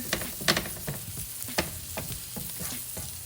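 French toast sizzles steadily in butter and oil in a hot skillet, a close, even crackle with scattered pops and no talking.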